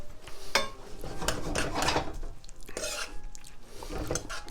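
Onions, peas and prosciutto with parsley stirred in a pan, with clattering scrapes and knocks of a utensil against the pan in quick uneven strokes, close and fairly loud.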